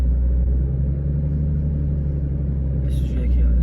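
Steady low car engine rumble from a manual-transmission car as a learner driver eases the clutch out and presses the gas, holding a constant drone with only slight rise toward the end.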